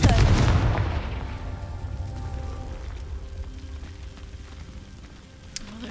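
A Confringo fire spell goes off in Hogwarts Legacy, a loud booming blast at the start that rolls off into a long rumbling crackle and then fades under the game's ambience.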